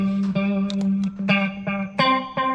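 An electric guitar runs through a delay effect pedal: a series of picked notes, each trailed by repeating echoes that overlap, played alone and fairly loud.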